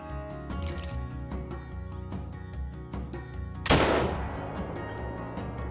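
Single hunting rifle shot in the game theHunter: Call of the Wild cracks sharply and loudly, then trails off in a short echo, against a steady background music bed.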